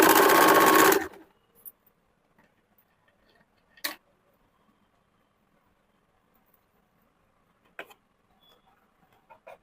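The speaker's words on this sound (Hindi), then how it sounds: "दूसरे साइड वाला नाप के सामने वाला का सेम उसी हिसाब से दोनों साइड का सिलाई डाल देंगे।" A sewing machine runs in one loud, fast burst stitching the side seams of a princess-cut kurti, then stops, leaving near silence broken by a few faint clicks.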